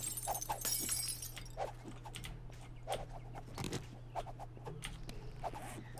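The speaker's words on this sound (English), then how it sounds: "You can bust those up with your fist and it drops a bunch of broken glass" Fancy shower glass in 7 Days to Die being smashed, with repeated short cracking and clinking hits in an irregular rhythm over a low steady hum, fairly quiet and with no talk.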